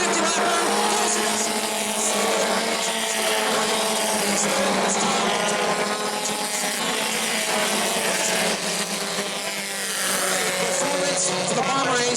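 Bomber-class race cars roar continuously at New Smyrna Speedway on the final lap of a 50-lap race, a dense, loud engine drone over the whole stretch with a track announcer talking over it.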